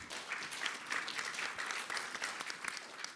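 An audience applauds with steady, dense clapping that fills the whole few seconds at moderate loudness, without talk over it.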